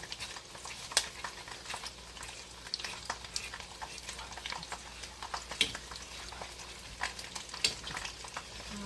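Candy corn buffalo wing sauce being stirred in a pot, steady soft bubbling and sizzling with scattered scraping clicks of the spoon, close and moderately quiet, with no talking.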